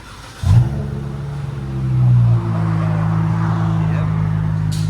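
Inside the cabin of a Dodge Challenger V6, the engine is started, then revs once and settles into a steady, fairly loud idle drone with a faint voice in the background.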